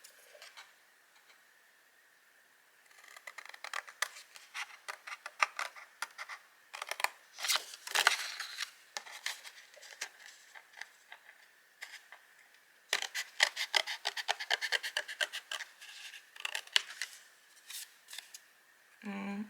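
Scissors snip close and quietly in quick bursts of crisp cuts, separated by short pauses, with faint rustling between them.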